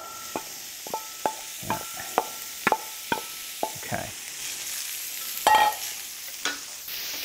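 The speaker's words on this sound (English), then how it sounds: "you hear that sound? That's the sizzle." Pancetta sizzles in a curved pan, a soft, steady fry under a string of sharp clicks and scrapes as it is stirred, with a short voice speaking briefly near the end.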